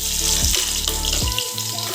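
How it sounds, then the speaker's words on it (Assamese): Onions frying in a cooking pan alongside bay leaf, a steady broadband sizzle with watery, bubbling texture throughout, moderately loud and continuous with no voices present. "পিঁয়াজখিনি অকণমান ফ্ৰাই কৰিব লাগিব"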